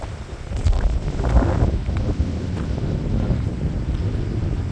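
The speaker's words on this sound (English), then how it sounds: "We got the wind blowing." Wind blowing during a spell of severe thunderstorm weather, gusting and buffeting the microphone in a loud, continuous roar that swells and eases without pause.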